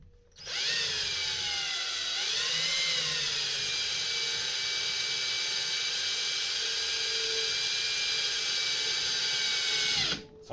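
An electric drill whines close up for about ten seconds, drilling into a VW Golf rear bumper to fit parking sensors, its pitch dipping once early on, then holding steady until it stops.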